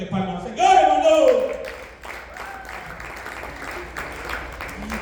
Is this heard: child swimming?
no